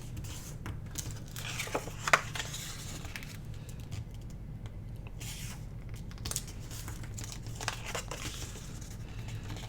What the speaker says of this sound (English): I think I want to fold it this way.